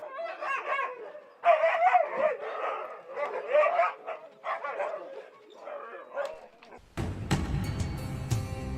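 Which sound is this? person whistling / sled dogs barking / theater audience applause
sled dogs barking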